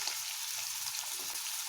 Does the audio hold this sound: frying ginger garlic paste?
yes